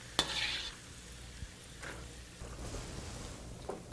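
Golden brown potatoes frying in hot ghee in an Indian kitchen, a soft bubbling sizzle with occasional clinks and scrapes of a utensil stirring or lifting them out of the pan, all fairly quiet and close.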